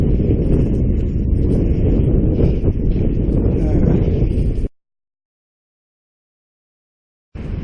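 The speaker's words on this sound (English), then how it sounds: "it's quite a strong westerly wind still" Strong westerly wind buffets the microphone in a loud, steady low roar for several seconds, then cuts out abruptly to silence before returning briefly at the very end.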